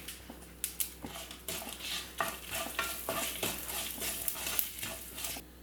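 Curry leaves and asafoetida fry in hot oil for onion chutney, a soft steady sizzle broken by repeated spoon-against-pan stirring clinks close by.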